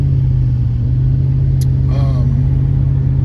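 Steady loud low engine rumble and road drone from a truck driving with its windows down, wind buffeting the cab throughout, with a brief faint higher sound near the middle.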